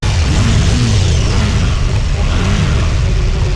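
Rough, steady exhaust drone from a KTM 990 Duke R motorcycle, loud and close, rumbling continuously with slight fluctuations and no clear speech over it.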